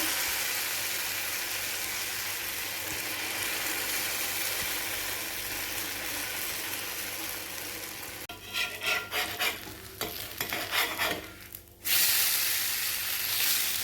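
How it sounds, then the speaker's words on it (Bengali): Batter poured onto a hot, oiled tawa for a quick evening snack, giving a steady hiss and sizzle that roughens into irregular crackling bursts near the end, close and alone without speech. "তো এবার চুলাতে দিছি একটা তাওয়া আর একটু সাদা তেল। এই যে এইবারে ব্যাটারটা দিয়ে দিতেছি।"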